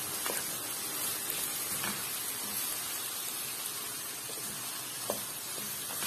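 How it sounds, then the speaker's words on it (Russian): A steady, soft sizzle of onion frying in a deep pan, continuous hiss with occasional faint pops and clicks, no talking. "Лучок сейчас подрумянится"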